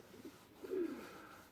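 A single soft coo from a pigeon at an allotment, faint and brief against quiet outdoor background, with no talking.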